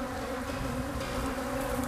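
A swarm of killer bees drones in a dense, continuous buzz that holds steady and moderately loud throughout, with no voices.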